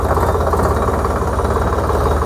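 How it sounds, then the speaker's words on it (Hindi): A heavy 58 HP tractor engine runs steadily up close during gear shifting, a loud, constant low rumble with no pauses. "और अब दिखाता हूँ इस ट्रैक्टर की गियर शिफ्टिंग।"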